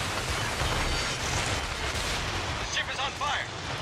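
Anti-aircraft guns blaze at attacking aircraft during a naval video game battle, a dense, continuous rattle of rapid fire and booming shots layered with a voice.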